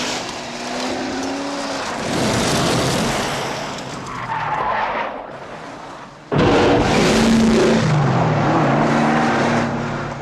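A car drives at speed with a loud, roaring engine and squealing, skidding tires, the noise dropping briefly before surging back harder.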